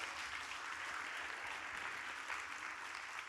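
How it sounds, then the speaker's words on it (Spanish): Sustained applause from a church congregation fills the space as a steady, dense wash of clapping, fairly distant and without speech. "Creo que puedes darle ese aplauso más fuerte porque es para Dios."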